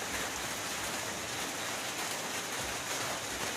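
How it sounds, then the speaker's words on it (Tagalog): Heavy rain pours down steadily in a dense, even hiss that fills the scene with no break and no voices. "Nagkusog na jud ang ulan."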